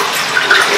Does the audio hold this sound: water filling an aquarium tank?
yes